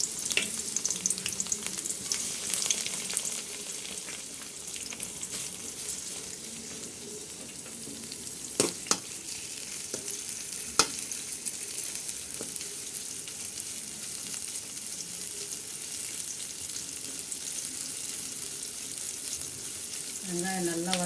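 Chopped onions sautéing in hot oil in a pan for a pizza topping, a steady close sizzle and crackle throughout with a few sharp clinks of a spoon against the pan and no talking.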